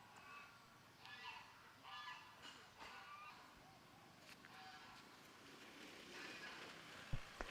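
Geese honk repeatedly at a disc golf course during a Samui Swine tournament round, several moderately distant calls scattered across the scene over steady outdoor background noise.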